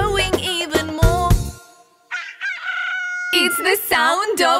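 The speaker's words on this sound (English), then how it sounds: "It's the sound of a rooster." A rooster crows loudly and close by, with clucking before a long drawn-out cock-a-doodle-doo and more calls following, no talking.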